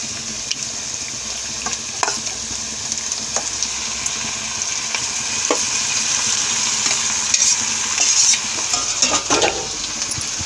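Pieces of marinated country chicken sizzle steadily in a hot pan while a spoon stirs and scrapes through them, with occasional soft clinks against the metal.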